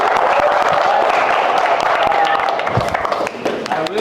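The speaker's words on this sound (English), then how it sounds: "Let's give them applause one time." An audience at an elementary school summer program wrap-up celebration gives steady, dense applause that holds strong and then thins slightly toward the end, with crowd murmur mixed in.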